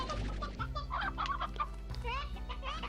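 Chickens cluck in the Slime Rancher video game, a run of short bird calls over a steady low game hum at moderate volume.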